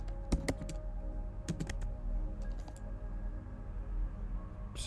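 Typing on a computer keyboard while entering a name into a web page layout, with close, crisp clusters of key taps in short bursts separated by pauses, alone without any talk.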